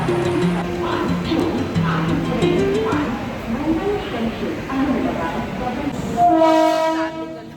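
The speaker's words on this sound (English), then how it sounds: "I think the train is going to come on platform number 6" A train horn sounds at a railway station as a train arrives at platform number 6 between Mumbai and Ahmedabad, loud sustained blasts near the end over a steady rumble of station noise and background chatter.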